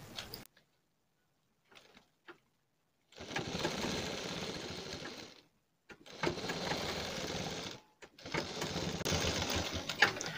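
A sewing machine stitches blouse pieces in three steady runs of whirring, each a few seconds long, close up, separated by brief silences and light handling clicks.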